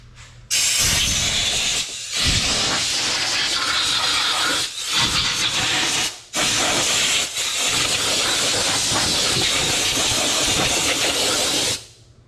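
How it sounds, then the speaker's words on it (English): Compressed air blasting debris out of parts on a 1962 International Binder pickup: loud, close, broadband hissing in long sustained bursts broken by a few brief pauses, running about eleven seconds. "blow the crusties out with some air"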